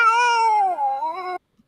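A cat's drawn-out meow from a video game, close and loud with a clear wavering tone, about 1.4 seconds long before it cuts off abruptly into silence.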